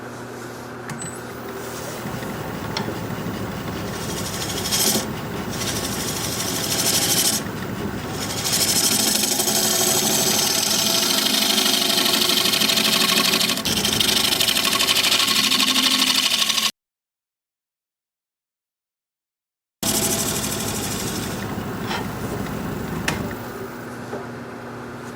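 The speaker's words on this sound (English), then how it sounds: "I'm going to see if my negative rake scraper can round this edge over here." A wood lathe spins steadily while a negative rake scraper rounds over an edge with a rough, continuous grinding whir, briefly cutting out to silence before resuming.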